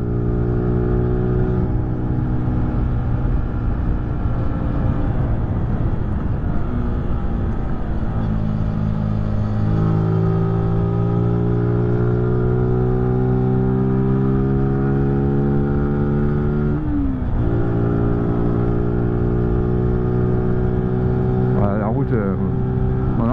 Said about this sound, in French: petite R5 rallye.